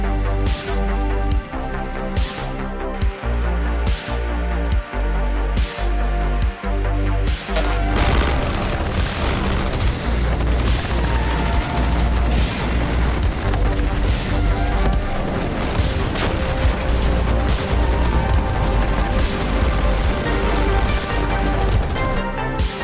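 Airstrikes and rocket barrages hit troops and armor in the wargame Armored Brigade II: a rhythmic series of thumps gives way to dense, continuous explosions and crackling gunfire, loud and sustained with no speech.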